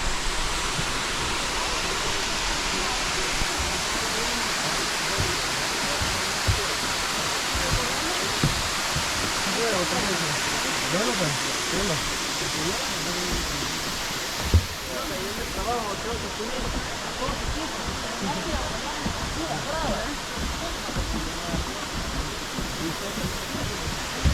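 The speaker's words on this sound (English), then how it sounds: "this is the main falls here" Main waterfall at Bushkill Falls, a continuous loud broadband rush of falling water that fills the whole scene evenly, with faint voices and occasional small knocks underneath.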